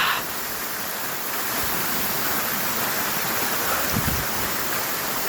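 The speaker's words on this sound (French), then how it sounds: "trouver cette magnifique cascade" A waterfall in a village pours with a constant, dense rush of water, even and fairly close, with no voices over it.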